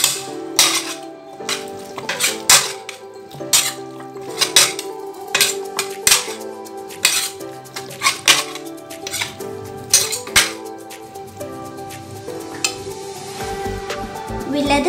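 Chicken lollipops being mixed by hand in a bowl of tandoori food-color marinade, giving repeated rhythmic clatters and knocks of bowl and utensil, close and fairly loud, with no talking.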